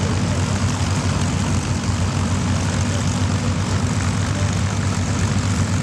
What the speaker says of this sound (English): And even though there's engine noise